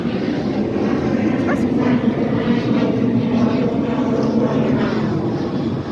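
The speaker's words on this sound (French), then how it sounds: "Un avion." A propeller airplane passes overhead, giving a loud, steady engine drone that holds through the whole stretch with no break.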